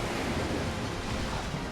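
Dense, even rush of water and crashing surf in the video game Okami, a loud continuous wash with no pauses and no voices.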